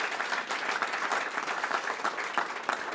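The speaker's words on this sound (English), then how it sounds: "One never likes to assume there'll be an applause there" Audience applause at a talk on meditation and recovery from addiction, a dense, even burst of many hands clapping heard at a moderate distance, continuous throughout with no voices over it.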